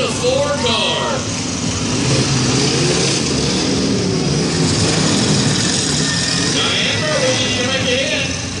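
Demolition derby cars at the Colorado State Fair revving and grinding in a loud, constant engine roar, with an announcer talking over the action throughout.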